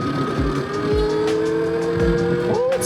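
A newly bought motorcycle's engine whines at high revs while being ridden, a sustained droning tone that rises sharply near the end, over rumbling low bursts and wind.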